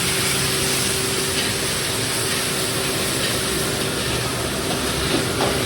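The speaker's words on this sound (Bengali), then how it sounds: "মশলা কষানো হচ্ছে মাটনে।" Mutton frying with spices in a pan at an outdoor picnic, a dense steady sizzle with a constant hiss and low bubbling, loud and close without pause.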